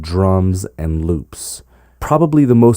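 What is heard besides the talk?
No distinct noise like a dog, phone or traffic.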